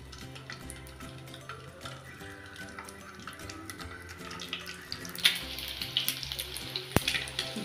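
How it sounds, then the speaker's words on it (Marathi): Scored boiled eggs frying in oil for a home-style Marathi egg curry, a soft sputtering sizzle at close range with rising crackle and a sharp clink near the end, no voices. "गोल्डन कलर येईपर्यंत ही अंडी मी फ्राय करून घेतली आहे"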